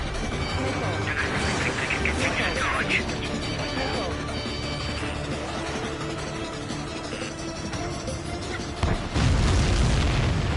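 Booming explosions from Ace Combat 7 air combat ring out over a dense layer of game music and radio chatter, with a heavier blast near the end.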